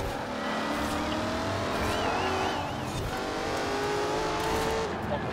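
All-wheel drive car in the racing video game Forza Horizon 4, a steady engine drone with shifting pitch as the throttle eases off, continuous and fairly loud with no talk over it.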